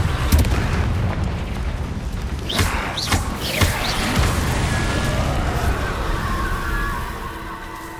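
Fire spell blasts from Hogwarts Legacy, played on PS5: loud booming bursts with sharp cracks around the middle, over a steady rumbling game mix that stays dense throughout.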